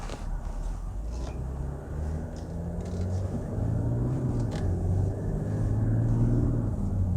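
A 2020 Mercedes GLS 400d diesel SUV cruising in comfort mode gives a low, smooth engine and road hum inside the cabin, gently building in level, with faint talk underneath.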